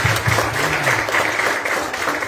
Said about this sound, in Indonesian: kasih aplaus dulu. Tepuk tangan yang paling mulia